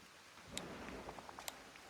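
Rain and thunder in the video game Disney Dreamlight Valley: a soft wash of rainfall with a low rumble, dotted with scattered sharp ticks and drips, all fairly quiet.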